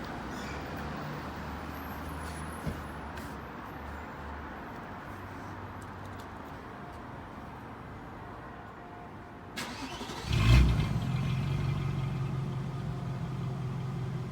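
A Volkswagen Passat W8 runs under a low, steady, muffled exhaust drone, then fires up near the ten-second mark into a louder, deeper idle that holds to the end, heard up close with no talk.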